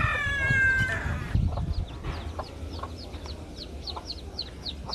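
Chickens cluck nearby, a run of short, repeated calls following a louder drawn-out call at the start, over low rustling background noise.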